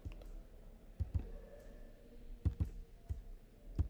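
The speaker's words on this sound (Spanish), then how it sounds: "le voy a dar un doble clic a este eje" Computer mouse double-clicks while adjusting a chart axis in a spreadsheet: several sharp, close paired clicks spaced through the clip, fairly near and alone over a quiet room background.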